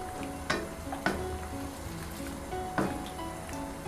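Goat meat frying in plenty of oil gives a steady close crackling sizzle, broken three times by sharp scraping knocks as the pieces are stirred.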